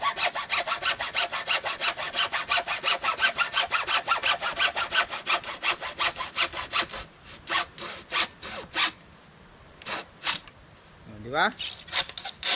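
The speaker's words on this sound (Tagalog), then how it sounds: "Kaso lang, nadala natin pamputol, laghari sa bakal." A hacksaw cuts through metal in fast, even back-and-forth strokes, loud and close. The strokes then slow and break into separate pulls with pauses, and a voice speaks briefly.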